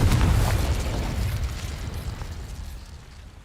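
A Confringo explosive spell in the Hogwarts Legacy video game goes off as one loud, booming blast that fades into a low rumble.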